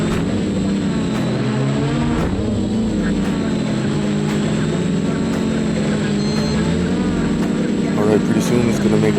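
A home-built quadcopter drone flies a low waypoint mission about 100 feet over houses and a road, its motors giving a steady, loud buzzing whine with shifting pitch that continues throughout.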